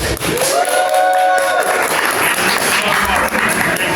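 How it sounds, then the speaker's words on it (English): Studio audience at a live talk show applauding a guest named Romeo, a dense steady wash of clapping with tonal music or voices layered over the start. "Another round of applause for Romeo."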